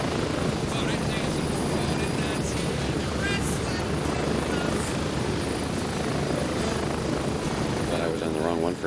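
Helicopter rotor thumping steadily in a video game, a loud continuous drone with a dense low rumble, while faint voices talk underneath.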